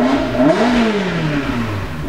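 A 2000 Ferrari 360 Modena with a Capristo exhaust revs sharply close by, the engine pitch rising quickly then easing down in one smooth sweep, loud and without talk.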